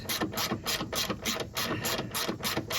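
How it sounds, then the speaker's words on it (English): A ratchet clicks rapidly in repeated bursts while tightening the three top screws of a front strut on a 2018–2025 Subaru Ascent, close up and with no talk. "now I'm going to go ahead and tighten the 3 top screws"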